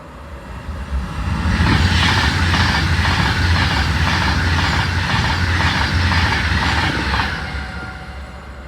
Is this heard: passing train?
yes